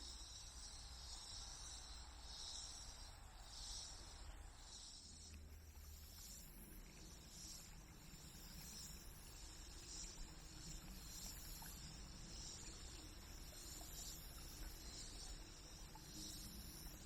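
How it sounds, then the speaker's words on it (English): Cicadas buzz in pulsing, overlapping waves high above a steady background hiss on a trail at Booker T. Washington National Park, faint and continuous throughout. "Do you hear the cicadas?"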